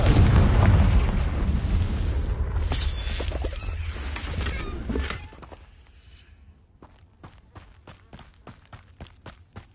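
A Confringo blasting spell explodes in Hogwarts Legacy with a loud, rumbling boom that decays over several seconds, followed by a run of quieter, evenly spaced footstep-like taps.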